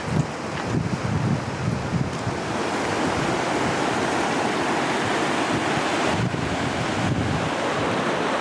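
A river in the Colorado mountains near an abandoned mining town rushes as a broad, steady wash of water noise, loud and continuous throughout, with wind buffeting the microphone and no talking.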